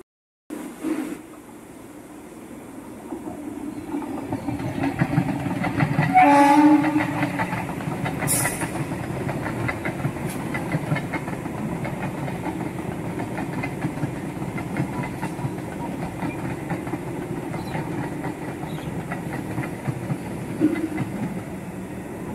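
A train rumbles past for a long stretch, a steady rolling clatter of wheels on rails, close and fairly loud throughout.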